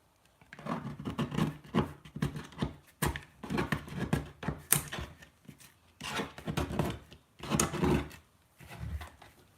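Card and foam bits scraped off a cutting mat: repeated rasping strokes in bursts, each a few seconds long with brief pauses between, close and fairly quiet.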